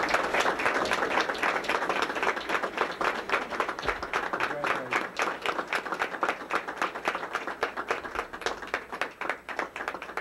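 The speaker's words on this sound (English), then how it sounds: "Ladies and gentlemen, round of applause for these ladies." Audience applause at a school board meeting, a dense, steady round of clapping from a roomful of people that carries on for about ten seconds with some scattered individual claps standing out.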